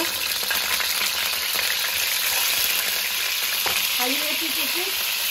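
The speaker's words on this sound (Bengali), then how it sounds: "এখন আমি মাছটা একদম হালকাভাবে ভেজে নেব।" Rui fish seasoned only with white pepper and salt fries lightly in a pan, giving a steady close sizzle that holds at an even level throughout, with no voices over it.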